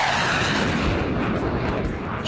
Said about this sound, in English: It's a jet!